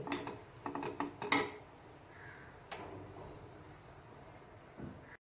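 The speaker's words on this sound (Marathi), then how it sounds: "आता आपण त्याला थंड होण्यासाठी एका बाउलमध्ये काढून घेऊया" Cooked semolina scraped from a pan into a bowl, with a burst of close metal clinks and scrapes at the start, then quieter handling sounds and one more soft knock near the end.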